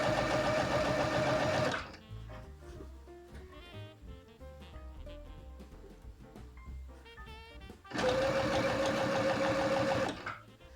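A sewing machine stitches an apron in two loud, steady runs of whirring needle motion, separated by a quieter pause of mechanical clicks and handling noise.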